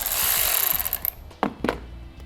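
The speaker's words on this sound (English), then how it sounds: "We have a 10mm nut right here, which we'll remove." A 10mm nut is worked loose by hand on a battery terminal stud of a 2012 Jeep, giving scraping, clicking metal tool sounds and two sharp ratchet-like bursts up close, with no talking.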